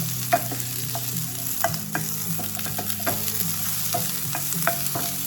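Onions cooking down in a pan, a steady sizzle with repeated sharp scrapes and taps from stirring over a constant low hum, no voices.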